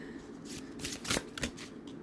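A deck of cards being shuffled up close, a quick riffle with crisp, flapping bursts that peak near the middle, with no voices.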